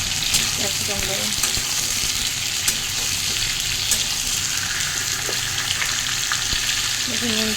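Potato pieces sizzle in hot oil with onions in a pan, an unbroken close crackling hiss broken by occasional sharp clicks of a spoon stirring.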